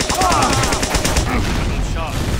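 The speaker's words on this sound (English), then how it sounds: "The primary weapon of the medic is his syringa that shoots" Rapid bursts of needle fire from the Medic's syringe gun in Team Fortress 2, a fast rhythmic volley of game weapon shots mixed with other battle noise and a faint voice.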